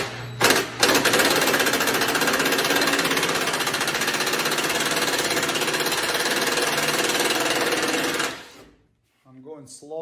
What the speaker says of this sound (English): Now remove the six 10 millimeter head bolts.